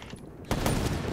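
Burst of video game gunfire in a free-for-all shooter match, a sudden dense volley starting mid-clip and sustained loud to the end after a quieter lead-in.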